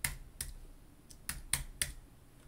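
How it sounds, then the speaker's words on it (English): A few separate keystrokes on a computer keyboard, spaced clicks spread over a couple of seconds, close and clear against a quiet room with no voices. "If we type in rtclib, which is the library we want to install"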